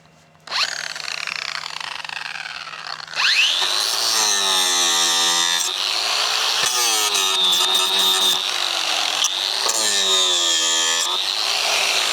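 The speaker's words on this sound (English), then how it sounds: "Let's go ahead and plug in our grinder." An angle grinder powered directly from salvaged solar panels spins up with a loud, sustained whine that keeps ramping in pitch and wavering in steady cycles, running alone for about twelve seconds after a brief quiet start.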